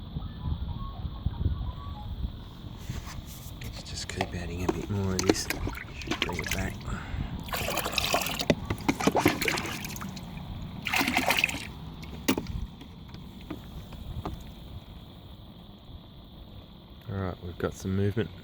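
Water is tipped into an aquaponics tank in a small vegetable and herb garden setup, trickling and splashing steadily through the clip with intermittent bursts of louder pouring and light handling noise.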